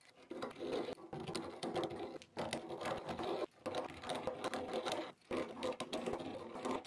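Hand deburring tool scraping the cut edges of pipe, a busy close rasping chatter in repeated strokes with brief pauses between passes, moderately quiet with no talk.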